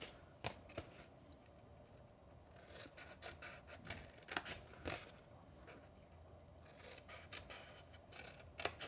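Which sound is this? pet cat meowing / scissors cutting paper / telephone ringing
scissors cutting paper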